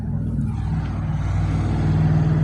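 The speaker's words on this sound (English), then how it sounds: "So a red Dodge Challenger just drove past." A red Dodge Challenger drives past on the street, a steady low engine rumble that swells slightly toward the end as it goes by, with no talking.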